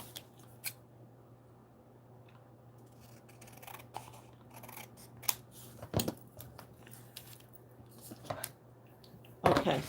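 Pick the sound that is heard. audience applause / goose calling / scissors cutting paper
scissors cutting paper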